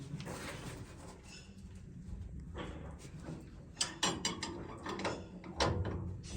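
A nut being tightened on the maize cutter of a combine harvester, giving a steady metallic ratcheting and clinking that grows into sharper clanks in the second half.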